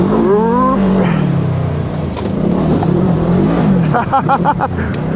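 A Polaris Pro R XP 1000 UTV engine revs and drifts close by, its pitch rising and falling with throttle, over crunching tyres and knocks from the terrain.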